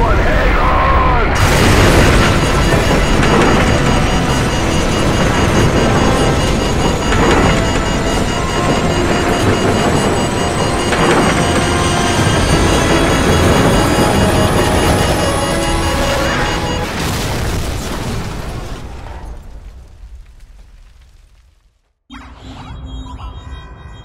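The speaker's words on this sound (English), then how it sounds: "What appears to be an explosion of epic proportions." Nuclear explosion in Call of Duty 4 Modern Warfare, a huge, sustained roar and rumble with crackling debris that fades out, a brief silence, then a low aftermath rumble returns.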